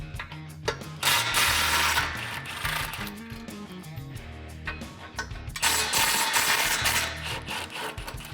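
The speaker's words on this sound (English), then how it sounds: "grab your 16mm socket and disconnect these two bolts" Ratcheting a 16mm socket on exhaust flange bolts of a 2019-2020 RAM 1500 5.7L, with bursts of rapid clicking and metallic clatter in two main spells, close and fairly quiet.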